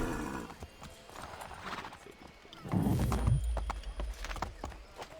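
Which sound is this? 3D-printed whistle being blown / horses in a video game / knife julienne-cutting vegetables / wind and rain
horses in a video game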